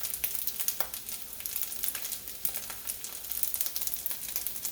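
Egg, pea and ham mixture with rice sizzling in a frying pan for turmeric fried rice, a continuous close hiss with light crackles and small pops, no talking.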